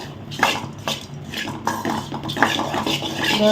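Puffed rice being stirred with masala in a metal vessel, a spoon scraping and clinking against the pan in an irregular series of close, moderately loud strokes, with no talking.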